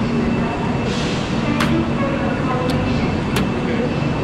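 High-speed train from Shanghai to Suzhou, heard as a loud, steady rail rumble with a few sharp high squeals or hisses. People talk nearby.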